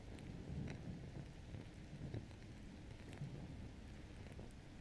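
Steady, heavy rain comes through an open window during a storm, a dense continuous hiss with a few brighter drop spatters and no talking.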